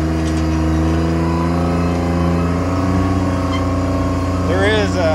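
A JLG 330 CRT scissor lift drives along with a loud, steady droning engine and whining hydraulic drive tones, continuous and close, with a brief rising whine near the end.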